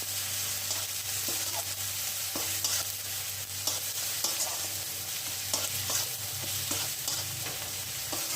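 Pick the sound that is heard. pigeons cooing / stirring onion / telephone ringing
stirring onion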